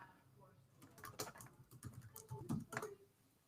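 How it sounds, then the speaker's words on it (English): Someone types an email address on a computer keyboard, and the quick, faint clicks of the keys come in uneven runs while a person talks over them. "I'll just type it in right now"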